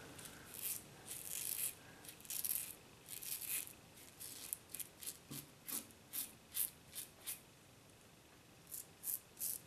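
Fatip Piccolo safety razor shaving with a commercially made-style soap lather, giving close, crisp rasping scrapes, dense at first and then settling into short regular strokes about every half second, with no talking.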